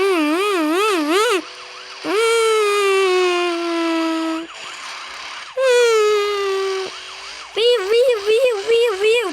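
A police siren from a car parking video game wails loudly in rising and falling cycles, broken by short pauses, then switches to a faster yelp at the end.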